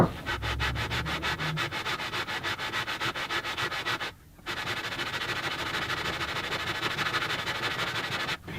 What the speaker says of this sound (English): use that to sand your pieces nice and square